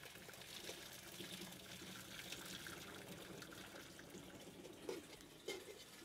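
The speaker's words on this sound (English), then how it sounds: "I'm gonna take this back to the sink and pour off most of the water." Water is poured off from a pot into a kitchen sink while the lid holds the contents back, giving a soft, continuous trickling wash with a couple of faint knocks near the end and no talk.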